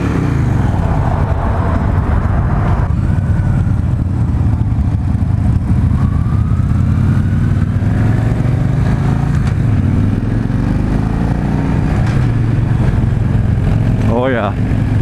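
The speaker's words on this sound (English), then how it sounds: "Get a little exhaust note." A 2016 Victory High-Ball motorcycle exhaust rumbles steadily and loudly while riding, with wind noise and a voice talking over it.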